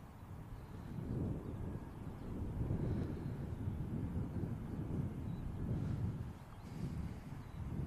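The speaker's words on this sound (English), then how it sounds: "it's making a feral racket over there," An EasyJet airliner at Manchester Airport gives off a steady, loud roar of engine noise that rumbles low and continuous, swelling slightly and then easing, with some wind buffeting on the microphone.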